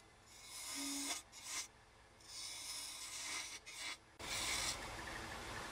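A wood lathe spins a blank while a gouge scoops a partial cove, giving steady rasping, rubbing cuts in bursts of about a second with short pauses between passes, close and moderately loud.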